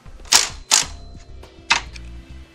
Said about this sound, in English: I'm gonna take a 14 millimeter socket and I'm just gonna break them loose.